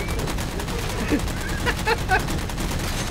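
Video game gunfire in Halo 4, a few short bursts of shots standing out over a constant busy game backdrop, with people talking and laughing now and then.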